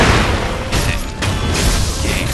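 Loud booming bursts from a firecracker prosthetic tool in the Sekiro: Shadows Die Twice video game, a dense continuous blast of noise filling the whole moment with no speech.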